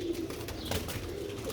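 Sialkoti pure-breed pigeons coo in soft, low, steady tones, with a few gentle chirps and a faint background murmur running under the calls throughout.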